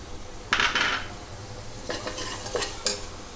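Coriander powder and chola masala powder fry in a pan over a low flame with a soft sizzle, while a spoon scrapes and stirs against the metal in brief bursts.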